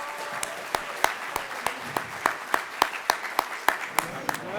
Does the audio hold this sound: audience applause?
yes